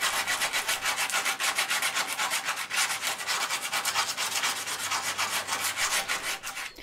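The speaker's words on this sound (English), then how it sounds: "The objective of our sanding here is to simply remove all the loose paint and rust" Rhythmic back-and-forth sanding rasps against a car's metal body, removing loose paint and rust, steady, close and loud, with brief pauses between passes.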